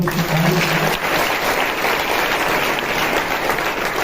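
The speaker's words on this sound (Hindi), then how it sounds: "ताली बजाओ यार" A church congregation bursts into continuous applause during a service, with dense, loud clapping that carries on steadily and fills the room.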